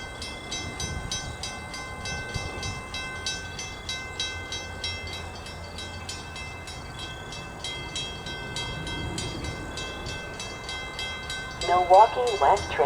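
A Metra commuter train at Schaumburg rumbles and clatters steadily, with a rhythmic metallic ticking throughout and a louder burst of activity near the end; a voice speaks faintly.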